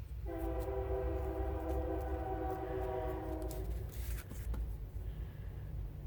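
A train's horn sounds a long sustained blast over a steady heavy rumble, then the horn cuts off and the rolling noise carries on.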